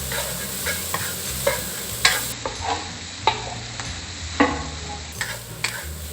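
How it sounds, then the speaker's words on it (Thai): Fried rice with roasted chilli paste sizzles steadily in a hot wok while a utensil scrapes and clacks against the pan in irregular strokes, close up. "ผัดเลยครับ"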